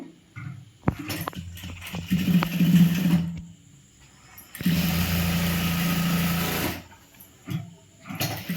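A tailoring sewing machine runs in loud bursts while joining the front and back shoulder seam of a churidhar, with a long steady stretch of motor hum between short starts and quiet gaps.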